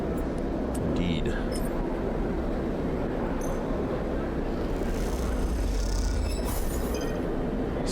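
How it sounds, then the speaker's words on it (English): Cargo haulers rumbling through a transit tunnel in the video game Citizen Sleeper 2, a steady loud low rumble with faint metallic squeals and clinks over it throughout. "You get lost and end up in a transit tunnel where cargo haulers rumble past dangerously."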